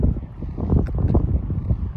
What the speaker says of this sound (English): Strong right to left wind.